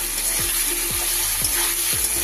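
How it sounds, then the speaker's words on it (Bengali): Potatoes seasoned with turmeric and salt sizzle steadily in a hot pan, a continuous close frying hiss with a few soft stirring scrapes, no voices. "আলুটা ভাজা হয়ে যাবে"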